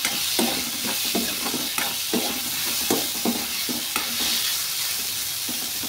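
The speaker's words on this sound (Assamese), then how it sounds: "আলুখিনি ভজা হৈয়ে যাব" Boiled potatoes fry in a pan, with a steady sizzle and a regular rhythm of stirring scrapes. The frying is close and moderately loud, and no voices are heard over it.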